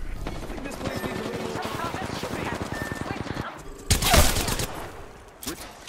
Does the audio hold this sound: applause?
no